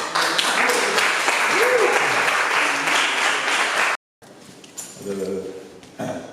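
An audience claps steadily for a guest speaker, Dr. Arri Eisen, at a Sunday celebration gathering, the applause loud and sustained for about four seconds before cutting off into quieter room sound and murmuring.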